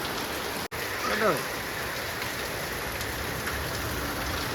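Steady rain falls as an even, close hiss across the whole stretch, with one brief dropout near the start and no clear voices.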